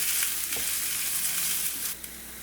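Grated coconut stirred into toor dal roasting in a pan, a close steady dry sizzle with a few soft scraping knocks, easing slightly toward the end.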